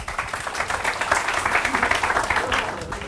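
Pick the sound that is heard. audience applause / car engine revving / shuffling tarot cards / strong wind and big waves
audience applause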